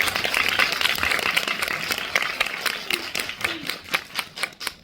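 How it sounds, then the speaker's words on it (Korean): An audience at a film talk event claps together, a dense wash of applause that holds steady and then thins into scattered claps by the end, with no clear talk. "그 입덕하신 분들 박수 한번 부탁드리겠습니다"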